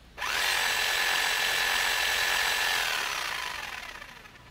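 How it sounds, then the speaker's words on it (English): A power drill whirs at a high steady pitch for about three seconds, then winds down and fades out; no talking. "That's the power drill."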